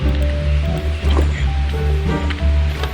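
Water being placed and flowing in Minecraft, a steady loud rushing wash with a continuous low churn and no voices.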